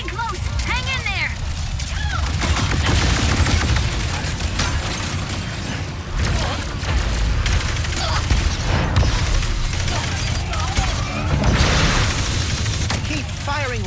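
Rapid gunfire from Ratchet's weapons in the Ratchet & Clank game rings out in dense, loud volleys over a busy battle din, with booms and mechanical clatter mixed in and voices speaking throughout.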